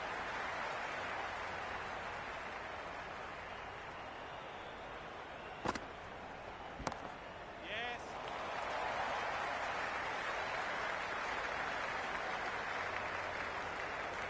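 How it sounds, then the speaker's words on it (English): Steady broadband crowd applause and noise at a ground in the Cricket 26 video game during a T20 World Cup match, England vs Australia, continuous throughout with a couple of sharp clicks near the middle. "the crowd have joined the party. It's pretty noisy at the ground"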